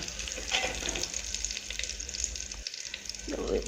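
Green chilies and onions sautéing together in a pan, a steady close sizzle and crackle with light stirring scrapes, brief dip near the end.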